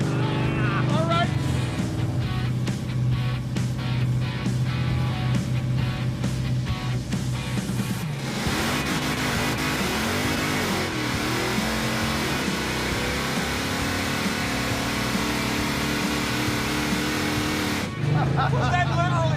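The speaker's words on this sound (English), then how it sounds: "Was that literally smoking the tires that whole time?" A car with a 440 V8 roars through a sustained burnout, smoking its tires, the engine loud and close with fluctuating revs and a shift in pitch midway, continuous for the whole stretch.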